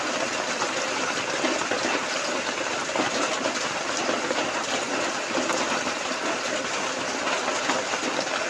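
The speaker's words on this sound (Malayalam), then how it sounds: "വെളിയിൽ നല്ല മഴയാണ്" Steady, dense hiss of heavy rain falling outside, continuous and unbroken throughout, with no voices.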